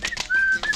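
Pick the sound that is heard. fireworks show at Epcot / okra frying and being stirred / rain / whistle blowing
whistle blowing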